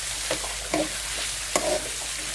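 Onions and curry leaves stirred in a hot pan: a steady hissing fry with three or four soft spoon scrapes across the pan, and no talking.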